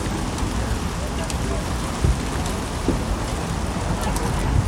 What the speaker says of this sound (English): The rain's coming down a little harder now.